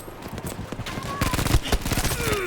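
Rapid automatic gunfire in a first-person shooter video game, dense bursts of shots growing louder toward the end, with faint voice underneath.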